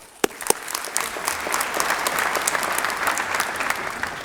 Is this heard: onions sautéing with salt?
no